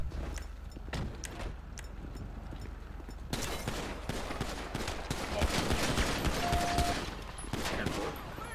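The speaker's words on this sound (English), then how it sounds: "Shots fired on officers." Gunfire during a police shootout in a GTA roleplay game, rapid volleys of shots that intensify partway through, with a voice briefly audible over the noise.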